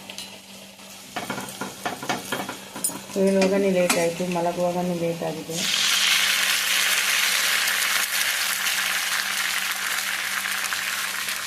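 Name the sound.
potatoes frying in oil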